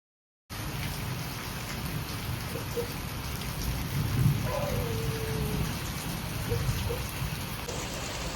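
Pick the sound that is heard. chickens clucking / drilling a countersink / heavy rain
heavy rain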